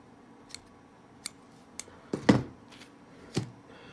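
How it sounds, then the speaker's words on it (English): Sharp scissors snip through polar bear hair fibers while tying a hairwing smelt fly, several crisp close cuts spaced irregularly, one louder and fuller. "Get you some good scissors"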